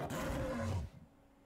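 A Herrerasaurus in Ark: Fjordur lets out one short, rough, growling roar close up that cuts off abruptly and fades away within a second.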